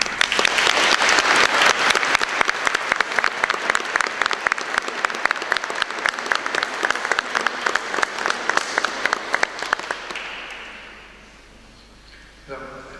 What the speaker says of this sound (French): On peut applaudir et les néophytes et tous ceux qui ont participé à